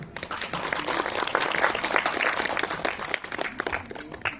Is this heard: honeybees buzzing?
no